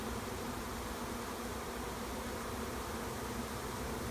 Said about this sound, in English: I'm going to stay and enjoy the bees until they all move in and see what happens